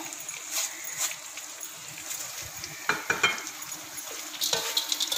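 Fried anchovies and shallots for sambal tumis are stirred in a pan, with soft scraping strokes and a light sizzle, growing busier toward the end.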